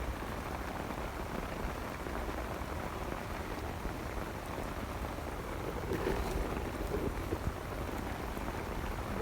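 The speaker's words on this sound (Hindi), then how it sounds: "बहुत तेज़ बारिश है यार" Heavy rain drums steadily on a loosely laid sheet, a dense continuous patter at moderate level with no breaks and no voices.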